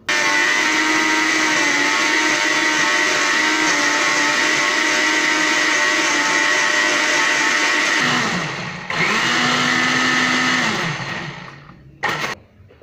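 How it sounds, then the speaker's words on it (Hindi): A blender blending onions and yogurt whirs steadily at a loud, constant pitch, then its motor dips and surges before winding down to a stop. "ही बसर ऐं ॾही ही असां हिन ब्लेंडर में विझी ब्लेंड कंदासीं"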